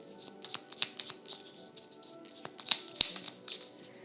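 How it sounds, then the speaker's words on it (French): Cardboard tiles from the Gorinto board game being shuffled and mixed by hand on a table, a quiet run of irregular clicks, taps and sliding rustles with a few sharper knocks close by. "on va jeter les tuiles qui étaient là. On va remélanger tout ceci."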